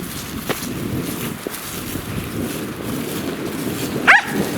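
A hunting dog moves about and snuffles close by during hunting season over low background noise, with one brief high yelp or whimper near the end.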